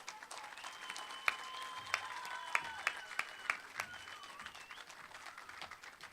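A crowd at a political rally on an outdoor stage gives steady sustained applause, heard from a distance, with occasional sharper claps and faint whistles standing out.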